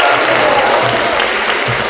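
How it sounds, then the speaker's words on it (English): Dense, steady applause from a school audience at a sophomore story slam for a storyteller, loud and sustained throughout, with a faint crowd murmur and occasional cheers blended in. "So let's do one more round of applause."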